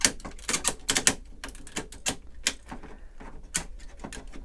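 Ratchet joints on the arms of a Legend Hero Legend King Phoenix action figure click sharply up close, a quick irregular series of crisp plastic ticks with short pauses between bursts.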